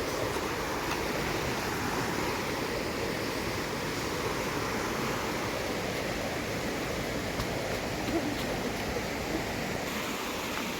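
Steady, loud rushing water roars without a break, a dense wash of churning flow with no voices.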